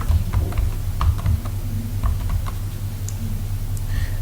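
Keys clatter in quick, uneven taps on a computer keyboard while text is typed into a word processor, steady and close, with no voice over it.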